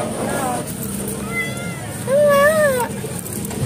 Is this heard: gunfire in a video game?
no